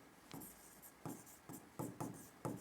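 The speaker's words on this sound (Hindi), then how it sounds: "तो इसमें हम लिखते हैं" Writing on a board during a history lecture produces a series of short, quiet scratchy strokes, about six of them in uneven rhythm, with no talk over them.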